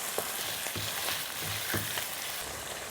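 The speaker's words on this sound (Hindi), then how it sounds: "यहाँ हम इसमें चिकन शामिल करेंगे और यहाँ हमने चिकन को इतना फ्राई करना है कि इसका कलर चेंज हो जाए।" About a kilo of chicken fries in a pan with a close, steady crackling sizzle, broken by a few soft stirring scrapes; no one talks.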